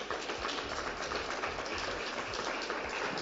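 Audience applause at the second Rumiñahui awards ceremony for migrant women, a steady dense wash of clapping throughout, fairly even and moderately distant, with no voices over it.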